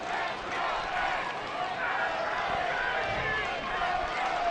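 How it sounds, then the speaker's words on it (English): A spring training baseball crowd at a Yankees–Mets game in the top of the seventh inning, a broad distant roar of cheering and murmur under a commentator's voice. "Crowd starting to get into things here in the top of the 7th."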